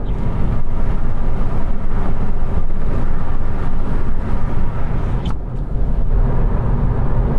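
Steady, loud tyre and road roar inside a 2021 Hyundai i20 at motorway speed, with a brief thump and a shift in texture as the surface changes, heard without talking.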